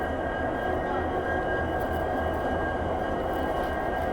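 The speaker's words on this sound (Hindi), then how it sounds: "क्या बात है, डीजल लोकोमोटिव का साउंड।" A WDP 4D diesel locomotive from the Ludhiana shed idles at the head of a passenger train standing on a station platform, giving a steady, continuous low engine drone with a faint tonal whine and no talk.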